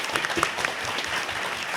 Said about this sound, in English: I want to have us all give a round of applause for Angela, Sarah, Brigid, Adalyn, Raven,